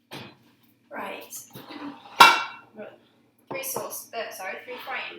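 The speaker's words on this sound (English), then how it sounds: "Three frying pans." Metal frying pans clatter and clink as three of them are set out in a home kitchen, sharp bangs and scrapes in short bursts with a voice talking between the handling.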